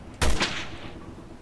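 One loud, sharp SVD sniper rifle shot cracks out in the game Resident Evil Revelations 2, followed by a short echoing tail.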